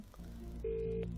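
Telephone ring from the Who Wants to Be a Millionaire game on Dreamcast, heard when calling a pal: a short electronic ringing tone that starts after a brief lead-in and holds steadily to the end.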